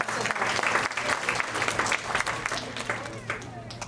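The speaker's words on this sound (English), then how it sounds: "A big round of applause once again." An audience applauds after a musical performance at a stage show, dense clapping sustained throughout at moderate loudness with some crowd murmur and a low hum underneath.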